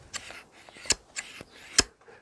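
Hedge shears after a tension adjustment, blades opening and closing in four crisp metallic snips at a steady rhythm, held close and heard alone in a quiet room.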